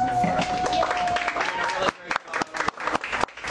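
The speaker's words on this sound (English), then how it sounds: "Can we give him a quick round of applause?" A crowd at a political rally in Boca Raton applauds, with dense clapping that swells and then thins into scattered claps as a voice carries over it.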